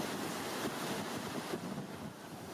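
Steady surf washing onto a Bali beach during a seaside purification ritual, a broad continuous roar of waves mixed with wind buffeting the microphone, no voices.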